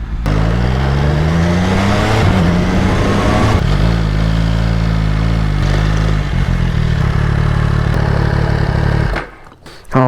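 An MV Agusta Brutale Dragster 800 RR motorcycle engine running loud and close, its pitch rising and shifting through revs before dropping sharply near the end, with a voice over it.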